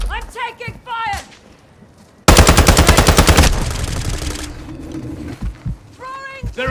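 Loud automatic gunfire from a Call of Duty: Warzone 2.0 battle, a rapid sustained burst lasting over a second that then tapers into a rumbling echo, with voices speaking before and after.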